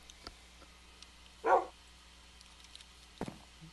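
A tamed wolf barking in the video game Minecraft, one short bark followed later by a fainter yip, with near silence in between.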